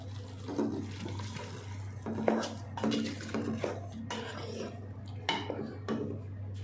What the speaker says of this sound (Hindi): मसाले को अच्छे से भून लेते हैं।